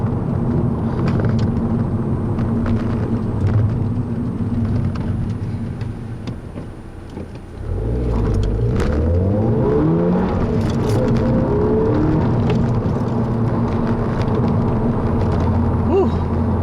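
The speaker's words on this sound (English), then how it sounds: "Very easy to chirp second here." A 2010 Volkswagen GTI accelerates hard in second gear, its engine note sweeping upward loudly after a brief lull, heard from inside the car with road and wind noise.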